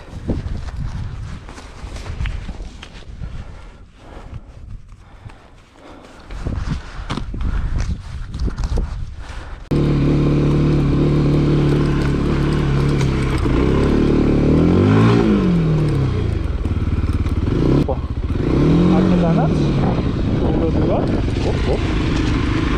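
A Rieju 307 Rally motorcycle picks its way over obstacles, its engine holding a steady close drone after a stretch of quieter footsteps and handling noise, with revs rising and falling a few times as it climbs.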